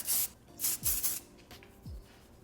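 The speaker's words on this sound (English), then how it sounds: "I'm just spraying this at the roots all throughout the back of her hair" Close, sharp hissing bursts of hair spray applied at the roots of the hair, three quick sprays in a row with short pauses between them.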